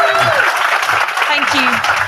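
An audience at a healthcare quality-improvement conference applauds loudly, a dense continuous wash of clapping with voices talking over it.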